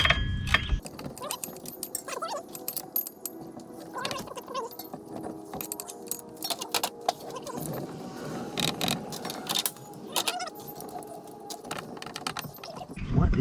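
Wrench work on a fuel line fitting of a 1997 Ford 7.3 Powerstroke diesel truck: close, irregular metallic clicks, ratcheting and clinks from the tool and fitting, with small rattles and taps throughout and no talking.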